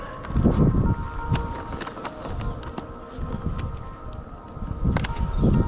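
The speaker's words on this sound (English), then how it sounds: "It's a bit windy." Gusty wind roars against the microphone in uneven surges at a beehive, with scattered rustles and clicks; no one speaks.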